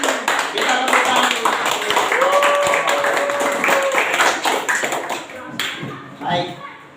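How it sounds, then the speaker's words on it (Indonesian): Schoolchildren in a classroom clap their hands together, a dense patter of many small hands that fades near the end, with voices and a brief vocal sound mixed in. "Kita tepuk tangan."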